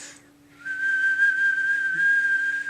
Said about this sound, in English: a single flute playing at a sustained note